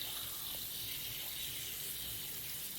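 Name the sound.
water running from a tap while rinsing hair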